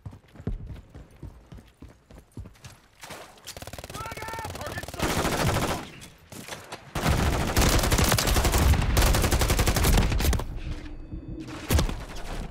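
Modern Warfare III gunfire erupts in heavy, sustained automatic bursts, loud and close, broken by a brief lull before a longer continuous volley that tapers near the end, with clattering game effects underneath.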